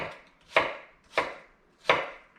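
A chef's knife dices an onion on a cutting board with three crisp, evenly spaced chops that come up close and distinct against otherwise quiet surroundings.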